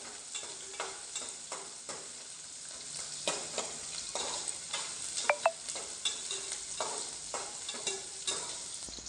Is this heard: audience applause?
no